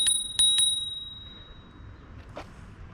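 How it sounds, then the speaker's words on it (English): Three quick bright rings of a RadCity RadPower electric bike's bell near the start, each ringing out and decaying, followed by a softer faint chime later over quiet background. "That bell's really efficient. It really works."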